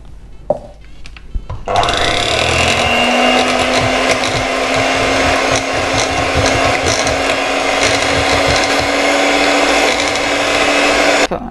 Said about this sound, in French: Et on bat tout ça.